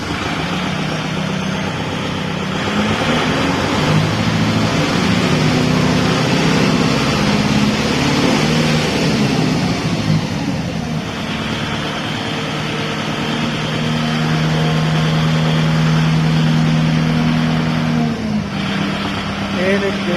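A 2020 Kubota MU5501 tractor diesel engine cranks, catches and settles into a loud, steady idle close by, with a low rumble that shifts partway through before holding even.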